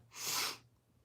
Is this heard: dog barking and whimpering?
no